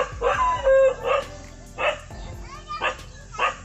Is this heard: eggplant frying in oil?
no